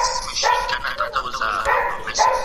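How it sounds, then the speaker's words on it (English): A dog barks repeatedly in GTA 5, a run of close, loud yelping barks in quick succession that fill the whole moment. "dog's being loud"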